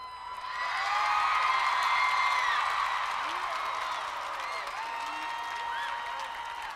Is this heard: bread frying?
no